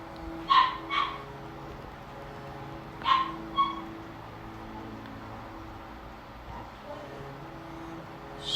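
Dog barking in two short pairs of sharp barks with a long pause between, heard at a moderate distance behind a low steady room hum.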